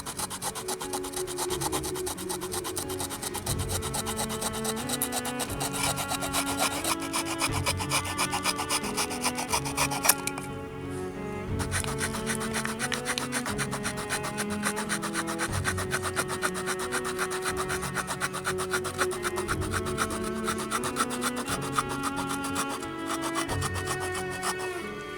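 A tiny Victorinox Evowood 17 folding saw, blade under 3 inches, cuts through wood in fast, steady back-and-forth strokes, a close rasping rhythm that runs almost unbroken with one short pause partway through.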